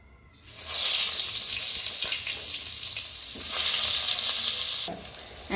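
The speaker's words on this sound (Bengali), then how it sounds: "দেখো, বেগুনটা এরকম হালকা ভেজে নিলাম" Eggplant pieces frying lightly in hot oil, a loud, steady crackling sizzle that swells and eases a couple of times with faint knocks of a utensil in the pan.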